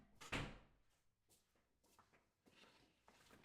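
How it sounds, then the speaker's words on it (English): An indoor door is shut with one soft thud, followed by faint shuffling and footstep-like sounds in a quiet room. "I need to go shut this fucking door."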